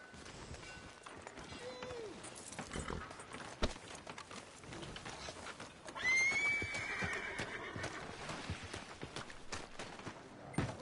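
A horse whinnies loudly amid clip-clopping hooves and running, with scattered background sounds and faint voices in a busy scene from the video game Red Dead Redemption 2.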